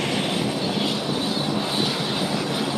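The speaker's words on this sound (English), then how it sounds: "I think this might be Britney Spears' airplane." Airplane flying overhead in Fort Lauderdale, a loud steady roaring engine drone that holds constant throughout, close and dominant, with no talking.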